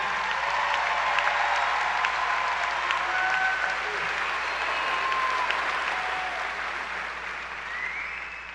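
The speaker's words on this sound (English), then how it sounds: "give them one more round of applause for our class of 2021." A high school graduation audience claps in sustained, even applause for the class of 2021, a dense wash of many hands filling a large venue, steady and fading slightly toward the end.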